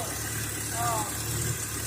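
A Ford Fairlane engine with a water leak idles with a steady low rumble under ongoing talk, briefly rising slightly midway.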